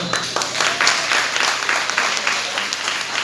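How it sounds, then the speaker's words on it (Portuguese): A church congregation bursts into loud, sustained applause during a worship service after a deacon's ordination is approved, dense overlapping clapping with a faint voice underneath. "Pode aplaudir o Senhor."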